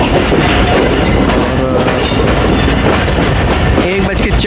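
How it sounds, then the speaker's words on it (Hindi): The Tezgam Express train rolls into Lahore Junction with loud clattering wheels and rhythmic clickety-clack over rail joints, metallic squeals and a faint voice mixed in close by. "ए टाउन तेज़गाम लाहौर जंक्शन के होपफुली प्लेटफार्म नंबर 4 पे अप्रोच बनाएगी।"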